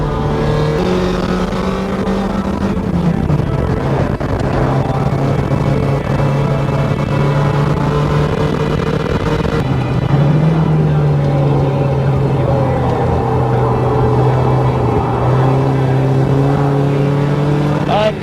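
A $300 race car runs laps at Gingerman Raceway, its engine droning loud and steady with a rising and falling pitch through the gears. The note dips briefly near the middle of the clip, then climbs back.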